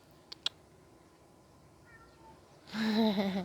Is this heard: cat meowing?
yes